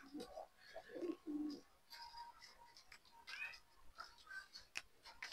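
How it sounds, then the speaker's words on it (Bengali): Restless pigeons in a home loft coo softly and shuffle about, with low throaty calls early on and scattered chirps, flutters and clicks, all fairly faint and close. "খুবই ছটফটে কবুতর"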